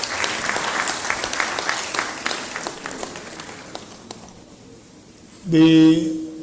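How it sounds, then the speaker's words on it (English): An audience at a World Environment Day event at Igbinedion University, Okada, claps for a presenter. Lively, crisp applause rolls on for about four seconds, thins and fades away, and a voice briefly speaks near the end. "Can we give her another round of applause?"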